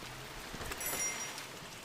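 Steady rain falls in a psychological horror video game, a soft, even hiss of drops on a surface lasting the whole moment, fairly quiet with no talk.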